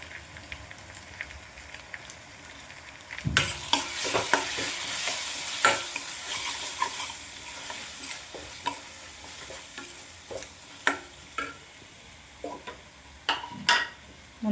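Ginger garlic paste with salt and chili powder frying in a pan, a soft steady sizzle broken by repeated sharp scrapes and clinks of a spoon stirring, close and with no voices.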